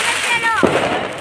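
Diwali firecrackers burst in a residential lane at night, a sharp pop standing out over a dense wash of crackling and distant bangs, with a whistling rocket-like tone just before and voices murmuring underneath.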